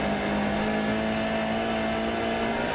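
A Volkswagen Polo R rally car runs flat out on snow and ice through frozen forests in southern France, a steady, loud engine drone holding high revs throughout without letup.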